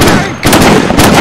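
Loud gunfire from the DayZ video game, two dense blasts split by a short gap, close and heavy.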